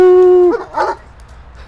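A dog lets out a sustained, steady howl that breaks into a short yelp and whimper, loud and close, then fades to quiet.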